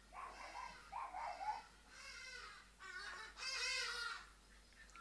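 Chickens clucking and squawking in a backyard, a run of several calls at moderate distance, layered and overlapping with a steady background hum.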